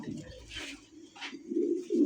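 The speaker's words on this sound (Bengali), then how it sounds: "দেখেন 3 পিস কবুতর, এক জোড়া আছে রানিং মাস্টার পেয়ার।" Pigeons in a small group of three, including a breeding pair of fancy domestic birds, give low, throaty coos that rumble steadily and swell near the end, close by with faint hissy rustles above.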